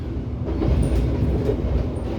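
The Cikuray passenger train rumbles past a level crossing, a steady heavy roll of wheels and carriages close by, with faint clicks of the rails and no voices.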